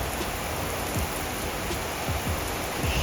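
Light rain falls steadily in Phuket, an even hiss with a few soft drops landing close by.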